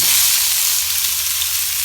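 Green chilies and chopped onions fry in a hot pan, a loud, dense, continuous sizzle heard up close with no talk, steady throughout.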